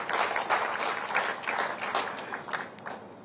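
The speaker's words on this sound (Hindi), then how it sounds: "तालियां आप सबकी तरफ से होनी चाहिए।" Audience applause at a Chief Minister's public inauguration event, a short burst of dense, crisp clapping from a crowd that rises quickly and holds steady for about three seconds before thinning slightly at the end.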